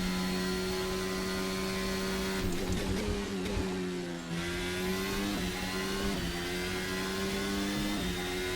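Formula 1 hybrid race car at Bahrain, a 2023-season machine in Assetto Corsa, screaming loud and steady at high revs with a few quick dips and shifts, sustained and close throughout.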